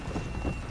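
Galloping horse hooves in the zombie-western game Red Dead Redemption: Undead Nightmare, a steady, fairly loud clip-clop running under a dense game soundscape with no talk.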